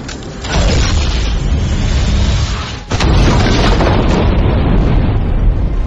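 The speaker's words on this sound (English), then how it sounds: "Enemy turret destroyed." Loud, dense explosion and rumbling booms as an enemy turret is destroyed in the video game Vainglory, filling the whole stretch with a short dip and a fresh burst midway; no talking.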